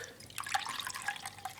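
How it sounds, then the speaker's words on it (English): Milk is poured into the top of a coffee maker, giving a soft, close, continuous liquid splashing and trickling that lasts throughout. "is just pour the milk"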